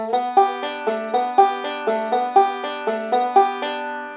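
A banjo repeats a short, even rhythmic pattern of bright twangy notes, with a sliding pitch rise on the third string recurring in each phrase.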